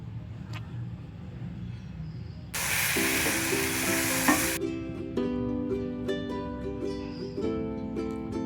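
Elephant foot yam masala sizzles and hisses in a pan while being stirred, with a loud, steady frying burst in the middle and music playing alongside.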